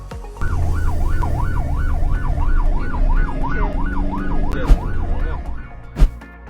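Ambulance siren wailing in a fast, regular up-and-down sweep as it passes a roadside convoy that has pulled over for it, loud and close over traffic rumble, with a couple of sharp knocks near the end.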